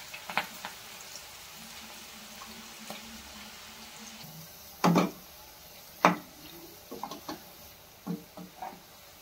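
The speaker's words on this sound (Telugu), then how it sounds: "కొంచెం సిమ్లో పెట్టే ఫ్రై చేసుకోవాలి." Cabbage pakoda fry quietly in hot oil over low heat in a gentle sizzle, broken by a few sharp clatters and knocks from a utensil against the pan.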